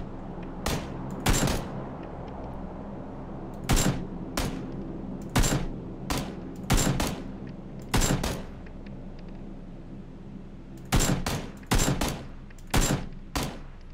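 Gunfire rings out in PlayerUnknown's Battlegrounds: loud, sharp shots in short bursts and single cracks, spaced irregularly across the stretch with brief quiet gaps between volleys.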